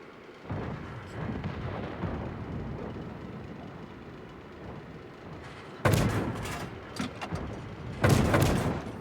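A rumbling engine drone is broken by a heavy tank cannon blast in World of Tanks, then a second loud boom a couple of seconds later, both sharp and forceful.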